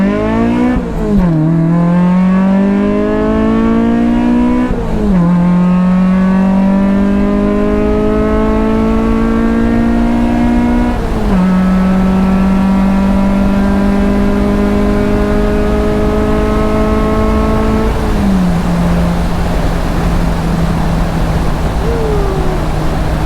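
A car launches from a standstill for a timed 0 to 60 run, its engine loud and close, climbing steadily in pitch through four gears with a brief dip at each upshift.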